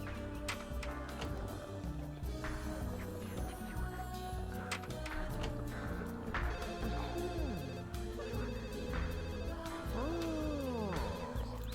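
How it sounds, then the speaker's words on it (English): A phone rings repeatedly in the video game The Sims, its electronic ring tones sounding over upbeat game music that plays throughout with no one talking. "Okay, now there's the phone"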